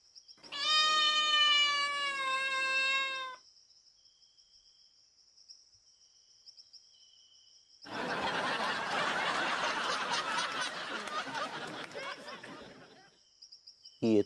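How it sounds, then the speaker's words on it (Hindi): A long, drawn-out cat meow rings out near and loud, followed after a pause by a burst of raspy chattering or snickering, with a steady high insect-like drone throughout. "ये तो रियल बिल्ली है बे।"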